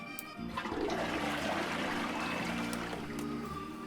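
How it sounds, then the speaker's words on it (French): A toilet flushes close by, a rushing gurgle of water that swirls steadily and keeps running for several seconds with no talking, as part of a Star Wars game. "C'est la chasse d'eau."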